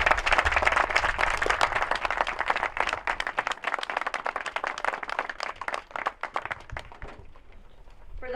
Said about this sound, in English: that deserves a resounding round of applause